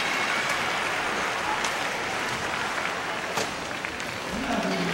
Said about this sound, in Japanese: この初めての大歓声を受けています